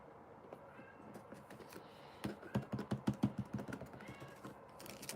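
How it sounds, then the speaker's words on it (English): A pet cat meows repeatedly in the background of a room during a live painting session, a run of rhythmic yowls rising in the middle, with faint tapping around it. "You hear my cat yelling in the background?"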